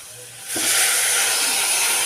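Boiled kohlrabi tipped into a hot pan of spice tempering sets off a sudden loud, steady hiss and sizzle that starts abruptly after a quiet moment and continues without a break.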